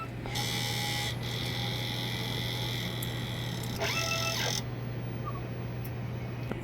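A DTF printer runs a head cleaning cycle, giving a steady mechanical whine and buzz with a short stepped motor sweep partway through, then a lower hum, close by.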